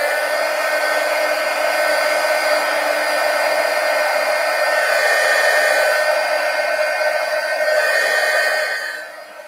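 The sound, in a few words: hair dryer drying acrylic paint on sketchbook pages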